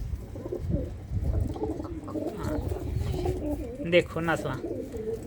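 Chap breed pigeons coo in low, steady murmurs that run through the whole stretch, close by and loud, with someone talking over them.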